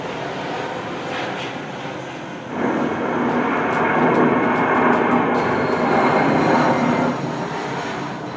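An airplane passes overhead, a steady broad roar that swells partway through and holds loudly for several seconds before easing slightly, with no voices.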